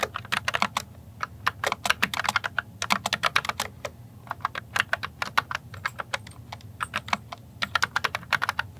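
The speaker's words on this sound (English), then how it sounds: "let's just see how I type" Rapid, steady typing on a Logitech MX Mechanical keyboard with tactile quiet switches, crisp clicky keystrokes in bursts with brief pauses, fairly close and clear with no talking.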